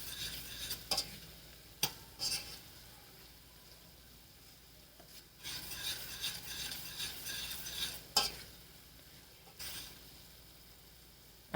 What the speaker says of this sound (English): Now this has come to a boil. I'm going to reduce the heat and I let it cook on low heat.